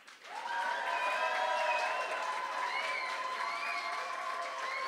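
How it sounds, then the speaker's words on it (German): Audience at a poetry slam in Wuppertal claps during the winner vote, applause rising quickly and holding steady, with cheers and whoops riding above it. "dann klatscht bitte jetzt"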